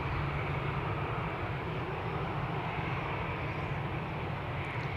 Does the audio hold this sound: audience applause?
no